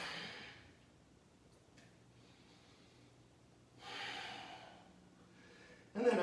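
A person exhales audibly during a hamstrings yoga practice. Soft breaths come out of near silence, with one longer outbreath in the middle and a sharper snort-like breath at the end.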